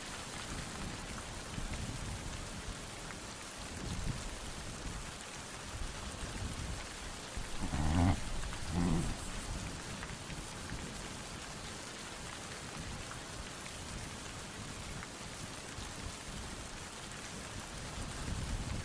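Steady autumn rain falls over open grasslands in a continuous close hiss, with a brief louder rumble partway through as the storm passes overhead.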